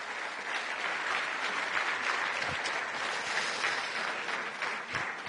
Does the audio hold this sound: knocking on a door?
no